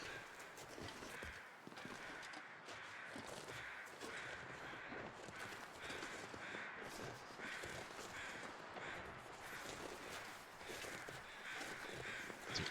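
Crows caw repeatedly in a snowy wilderness in the survival game The Long Dark, the calls steady against a constant wind-like wash of ambient noise, with occasional soft footstep crunches and no talk.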